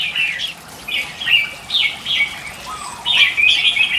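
Red-whiskered bulbul chicks on a bird-breeding farm give bright, high chirps in short repeated bursts, close and clear with no voices.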